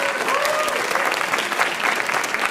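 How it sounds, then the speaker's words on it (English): A crowd at a community day writers expo applauds a student reader, with dense, steady clapping sustained throughout; faint voices and a brief cheer rise within the applause. "I want you to give them a big round of applause."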